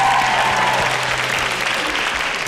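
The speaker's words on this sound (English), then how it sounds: "Let's have a nice round of applause." An audience applauds steadily at a Songwriters Hall of Fame master session, a dense wash of clapping that holds at an even level throughout.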